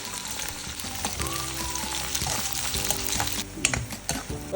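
Shallots and onions sauté in hot oil with popped mustard seeds for a duck roast, a steady close sizzle with intermittent stirring scrapes and clinks under faint background music.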